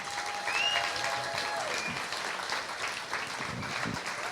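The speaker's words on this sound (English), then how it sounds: "So with a big round of applause, why don't we see if we can coax Dusty and Connor back out here." A live show audience claps warmly as performers are called back onstage, a full, sustained wash of hands with a brief whistle rising above it early on, continuing at a steady level throughout.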